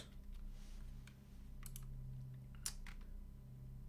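Typing on a custom-built 65% mechanical keyboard: quiet, scattered key clicks over a steady low hum, with a sharper clack cluster near the end.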